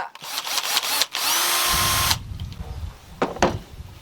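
A power drill, used for fishing, whirs loudly in short bursts, then runs in a steady high whine for about a second before stopping; clattering handling noises follow.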